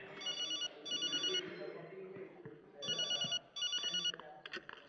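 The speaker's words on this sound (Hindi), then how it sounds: "अरे मेरा फोन!" A mobile phone rings with repeated electronic trilling bursts, two pairs of ring pulses separated by a short gap, close and clear, while people talk quietly in the background.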